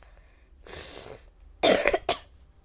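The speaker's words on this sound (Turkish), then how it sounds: "Hasta olduğum için azıcık öksürebiliyorum." Two separate coughs, close and fairly loud, the second a short burst of harsh hacks followed by a quick final one.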